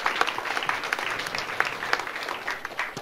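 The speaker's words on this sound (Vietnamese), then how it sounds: "Hãy cùng tôi vỗ tay một lần nữa." Church congregation clapping together in a sanctuary, a brief burst of moderately loud, fairly rhythmic applause.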